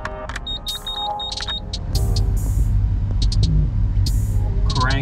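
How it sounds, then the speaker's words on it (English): A Mitsubishi Delica camper van engine cranks after a few short electronic beeps, then catches into a loud, steady low rumble that holds close and unbroken. "Cranking."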